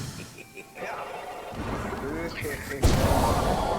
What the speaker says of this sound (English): little guy's shooting fireballs at him too